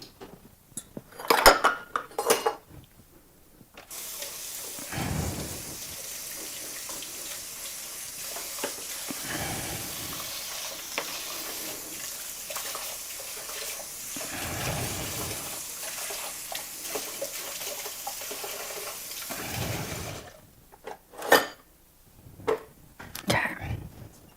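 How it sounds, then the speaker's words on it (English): A spoon works through a potato casserole in a dish, with scraping and clinking at the start and end and a steady hiss underneath, sometimes broken by soft thumps. "you can mix it with a spoon or a spatula, whichever is easier"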